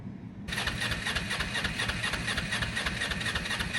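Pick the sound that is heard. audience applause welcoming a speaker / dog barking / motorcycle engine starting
motorcycle engine starting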